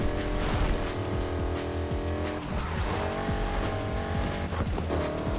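Race car engines roar and whine in a night street race in the video game Need for Speed Heat, with tire squeals and skids cutting through a steady, loud, continuous mechanical drone.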